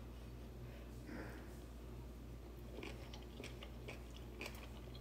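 Quiet, close crunching bites and chewing of hot stir-fried pork, a few crisp snaps over a steady low background hum.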